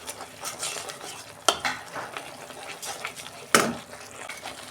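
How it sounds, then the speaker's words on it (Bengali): A spoon stirs spice masala frying in a pan for stuffed bitter gourd, scraping and sizzling continuously with two sharp metallic clacks against the pan. "মশলাটা আমি 2 মিনিট কষে নেব, যতক্ষণ না তেল ছাড়ে।"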